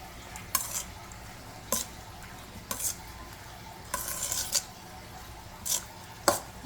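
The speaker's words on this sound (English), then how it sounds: "Just gonna give that a stir." Garlic being stirred in a metal pot, with several distinct scraping strokes at irregular intervals over a soft sizzle, close and moderately loud, no talk.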